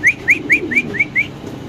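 White Spanish pigeons at a pigeon farm call in six quick, clear, rising whistled notes at an even rhythm, close and loud over a low background rumble.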